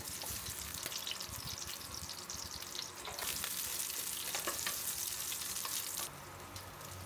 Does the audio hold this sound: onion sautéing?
yes